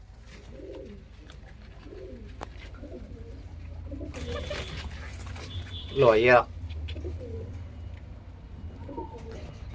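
Panjabi Malwai pigeons, a red Cheena bird with white eyes among them, cooing softly nearby while someone talks at length over a low hum, with a brief louder outburst near the middle.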